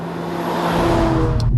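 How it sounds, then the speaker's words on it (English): A 2018 Volkswagen Golf GTI Performance Edition 1 on the move, its steady low engine drone and road rumble filling the cabin, swelling slightly louder partway through with no talking. "The car that we're driving now is the Golf GTI Performance Edition 1"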